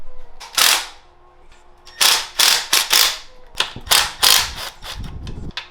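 Ratchet loosening bolts on a Whipple supercharger lid atop a Gen 3 Coyote engine: a series of sharp, close clicking bursts in irregular rhythm, separated by brief pauses.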